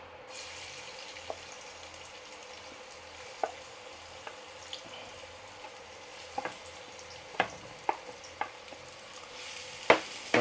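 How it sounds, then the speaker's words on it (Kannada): Onions frying in hot oil, a continuous soft sizzle close by, broken by scattered sharp spoon clicks and scrapes, with a louder burst of sizzling near the end. "ಎಣ್ಣೆ ಬೆಚ್ಚಾಂಡು ಇತ್ತೆ ನೀರುಳ್ಳಿ ಪಾಡ್ಗ"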